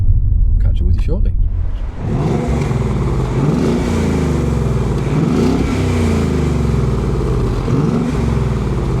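A deep Ford Mustang V8 engine rumbles loudly and rises in repeated revving swells, close up, after a brief quieter moment at the start.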